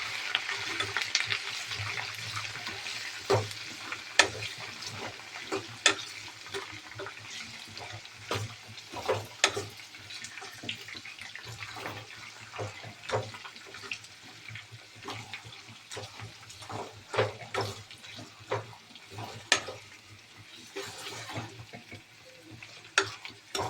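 Onion, curry leaves and chana dal sizzle and fry steadily in a pan while a spoon stirs them, the crackle broken by repeated scraping and clinking strokes throughout.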